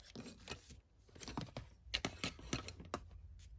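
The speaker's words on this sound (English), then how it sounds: "Take your scissors and just cut up the center" Scissors cut up the center of paper flower petals, six layers at once. Crisp snipping and crunchy paper clicks come in an irregular series of quick bursts, close and quiet, with short pauses between cuts.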